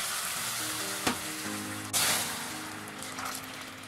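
Boiling water poured into melted caramelized sugar in a pan, for a honeycomb caramel sponge cake, giving a sharp burst of sizzling and bubbling with a louder surge midway, then easing off, with no talking.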